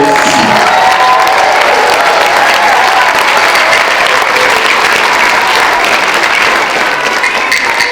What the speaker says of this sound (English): And one more big round of applause to these amazing 4th graders.